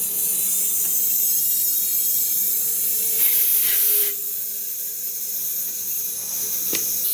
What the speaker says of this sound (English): Got to purge our hoses here a little bit.